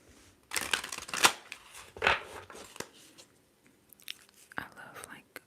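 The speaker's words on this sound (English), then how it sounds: "I love like card shuffling as" Tarot cards being shuffled up close, with soft riffling and flicking bursts in short clusters, quiet between them, plus faint whispery mouth sounds.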